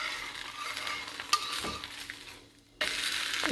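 Wheat dosa frying on a pan, a steady close hiss and sizzle with a few light scraping clinks, a brief quieter dip, then the sizzle resumes at full strength.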